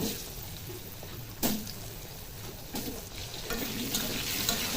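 Potatoes frying in hot oil with a pinch of nigella seeds, left over from frying fish, for a Bengali katla fish curry with potato and eggplant: a steady, fairly quiet sizzle with a few louder bursts as pieces shift.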